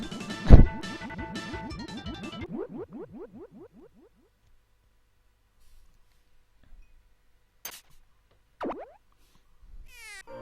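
Koban Cat meowing in the video game Goemon: a dense, bright electronic burst gives way to a run of quick, repeated sliding chirps that fade out, followed by a few sparse, separate game effects.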